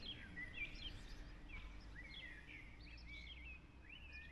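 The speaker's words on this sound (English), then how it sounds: "You can hear the birds." Several birds chirp and whistle in short, scattered phrases against a soft outdoor hum, distant and fairly quiet.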